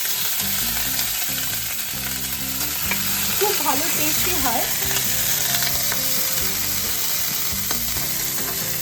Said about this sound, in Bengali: কড়াইয়ে তেল দিয়েছি প্রথমে দেবো এই পেঁয়াজটা